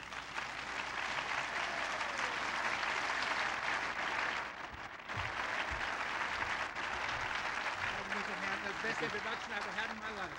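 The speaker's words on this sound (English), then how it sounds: "let's meet and give a round of applause to George Weans" A concert audience at a show claps in a full, sustained roar of applause, with a voice starting to talk over the tail end.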